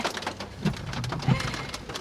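Rain falls steadily at a Florida cars-and-coffee meet, heard from inside a parked car as a close patter of drops on the roof and glass with occasional louder splats.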